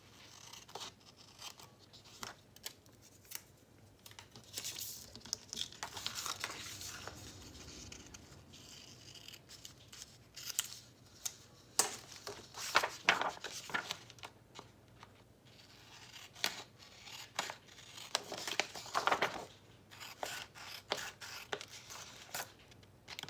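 Quiet, close scissors trimming excess paper from a planner page in irregular bursts of short cuts, with rustling between them and no talking.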